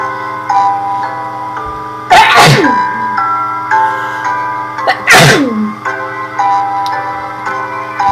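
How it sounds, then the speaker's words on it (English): Two sharp, loud human sneezes a few seconds apart, bursting over steady tonal background music during a redstone-building game session. "Hold on a second, I sneeze."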